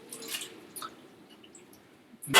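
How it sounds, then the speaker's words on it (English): Canned clams poured into an Instant Pot give soft wet squishes and drips at close range, quiet and intermittent, ending in a louder splashing slosh. "you'll go ahead and pour your clams into the pot"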